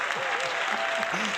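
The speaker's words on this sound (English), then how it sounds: "It's the audience cheering for me." A studio audience at a Latino talk show claps steadily, a dense, loud patter of applause with a few cheers and a whistle-like tone rising above it, sustained without a break.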